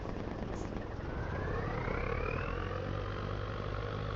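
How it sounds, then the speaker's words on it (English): Engine of the TLX in Farming Simulator 25: a steady low drone with a rising whine as the engine revs up, continuous and moderately loud with no talk. "So this was engine sound 2 on the TLX."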